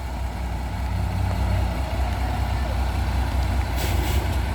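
A loaded trailer truck labours on a climb, its engine holding a deep, loud, steady drone that fails to gain speed, with faint hiss near the end.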